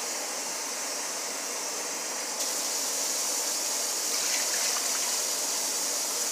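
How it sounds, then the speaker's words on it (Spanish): Water poured into a pot of sancocho de patitas (pig's feet stew) in a home kitchen, a steady splashing stream that grows slightly fuller partway through, with no talking. "Vamos a echarle agua."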